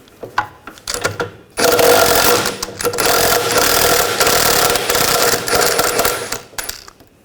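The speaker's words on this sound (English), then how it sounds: "We're going to take the sway bar link nut off," An 18mm socket on a ratchet spinning off a sway bar link nut on a 2000-2006 BMW X5, a few sharp clicks and then a loud, rapid, sustained clatter of ratcheting close by.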